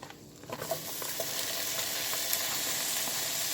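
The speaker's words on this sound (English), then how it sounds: "we'll start adding the vegetables as soon as the pan gets hot" Vegetables hit a hot pan for Puerto Rican stewed cod, a soft sizzle that swells into a steady frying hiss with faint stirring, heard alone.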